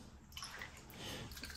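Water splashing and sloshing as a plastic water bottle is rinsed out, a steady watery wash with small drips, quiet and close, without talk.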